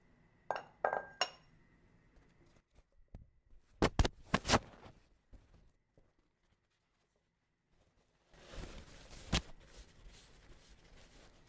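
Glass jar being washed, then dried inside with paper towel: sharp clinks and knocks of glass in a quiet kitchen, a pause, then a longer stretch of rubbing and handling noise with another bright clink.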